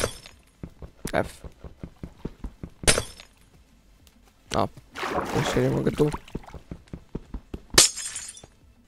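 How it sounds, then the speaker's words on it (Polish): Glass blocks breaking in Minecraft, several sharp shattering crashes scattered among quick clicks and footsteps, with a burst of water splashing midway and someone talking between the breaks. "Czyli muszę niszczyć szkło."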